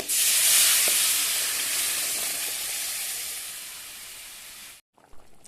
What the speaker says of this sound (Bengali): এবার সেদ্ধ করে রাখা ডালটা দিয়ে দেবো